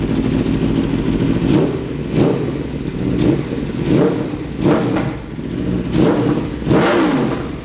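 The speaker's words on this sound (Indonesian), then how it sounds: "Sekarang kita coba geber sedikit." A motorcycle engine is revved repeatedly, about six sharp throttle blips rising and falling over a rough idle, close and loud.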